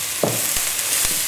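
Garlic frying in a pan for a cheese pasta bake with sausage and chorizo, a soft steady sizzle with a couple of brief stirring scrapes.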